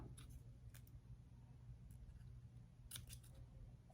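Scissors cutting craft paper, with a few distinct crisp snips at irregular intervals over a low steady background hum, close and without talk.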